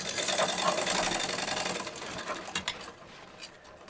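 A sewing machine stitches a dart in a katori blouse with a fast, loud mechanical whir for about two seconds. It then slows into a few separate clicks and stops.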